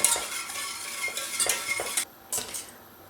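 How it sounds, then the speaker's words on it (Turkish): Spoon scraping and clinking against a pot as custard is stirred continuously while it cooks on the stove, with irregular metallic strokes, a brief quiet gap, then more scraping, close and fairly loud. "Sürekli karıştırarak muhallebimi pişiriyorum"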